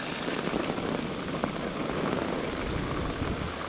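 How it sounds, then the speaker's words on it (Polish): Heavy rain pours steadily during a thunderstorm in a dense, continuous hiss, close by and loud, with scattered drops pattering on a tent and no voices. "I przyszła burza. I pioruny trzaskają. I deszcz leje."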